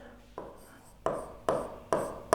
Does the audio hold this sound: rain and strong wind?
no